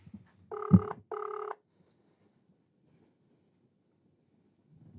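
An outgoing telephone call rings back with two short, evenly pitched ring bursts close together, followed by near silence and a faint low rumble at the end.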